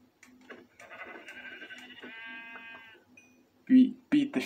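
Minecraft sheep bleating, a quavering wavering baa close by, followed by a person speaking.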